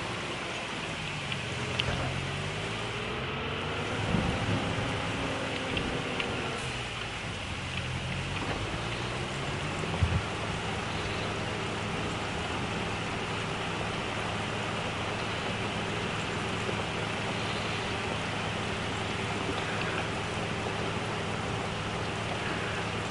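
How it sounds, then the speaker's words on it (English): Steady rain pours in the video game Farming Simulator 25, a dense, even hiss that runs throughout, with a few brief low knocks and faint tonal sweeps early on and no talking. "it is April, to be fair, so it's going to rain like mad"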